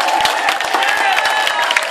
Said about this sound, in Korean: 박수 한번 크게 쳐주시기 바랍니다.